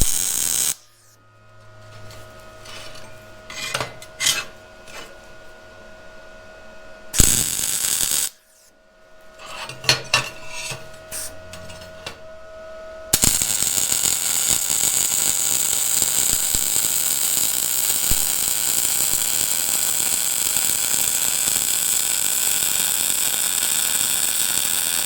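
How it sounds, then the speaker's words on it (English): MIG welder running a bead on 3/16 inch steel, a steady loud crackling hiss that starts abruptly and holds for about twelve seconds after a few short bursts of tacking. "Let's get this tacked in, and then we'll run a bead."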